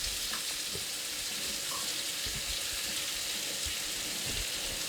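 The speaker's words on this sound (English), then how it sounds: "So I want for the margarine to melt." Margarine melts and sizzles steadily in a hot pan, a continuous crackling hiss with occasional soft scrapes and pops, no voices.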